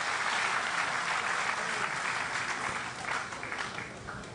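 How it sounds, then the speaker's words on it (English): An audience at a PTAD South-East stakeholders forum claps steadily, a dense, even round of applause that carries on throughout and tapers slightly near the end. "If we have a round of applause"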